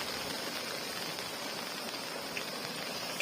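Heavy rain falls over damaged farm fields in Uttarakhand, a steady, dense hiss of downpour with no pauses, fairly faint and with no voices.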